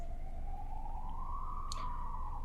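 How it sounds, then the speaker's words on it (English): A siren wails with one long, slowly rising and gently falling tone, steady and fairly clear over low background noise, with no talking. "There's the siren."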